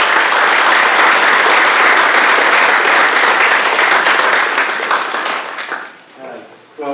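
Sustained applause from a lecture audience welcoming a professor, dense and steady clapping for about five seconds before thinning out and fading near the end.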